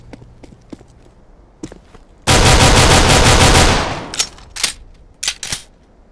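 Automatic gunfire in the video game CS:GO rips out in one loud, sustained burst of about a second and a half. Quiet footsteps and clicks come before and after it.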